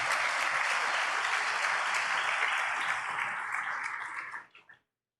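A church congregation claps together in a steady, dense burst of applause that holds at full strength for about four seconds, then thins out and stops with a few last claps.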